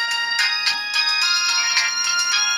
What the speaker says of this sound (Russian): Довольно популярный рингтон вот этот.